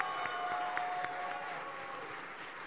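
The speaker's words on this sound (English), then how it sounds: "I hope you'll join me in giving them a round of applause" Applause from an audience at a Houston campaign rally for mayors, a steady wash of clapping that holds at a moderate level throughout without speech.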